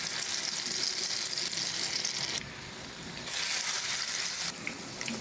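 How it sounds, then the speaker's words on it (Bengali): Battered pumpkin flower pakoras sizzle in hot oil, a loud, steady, close frying hiss that briefly dips quieter midway before surging back as more pieces go in. "তেলটাও গরম হয়ে গিয়েছে। এখন আমি এর মধ্যে দিয়ে দিচ্ছি"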